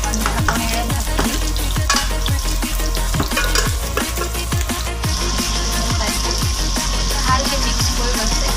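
Cauliflower and paneer curry frying in spices in a pan for an Assamese recipe, a steady loud sizzle with repeated stirring scrapes throughout, no talking.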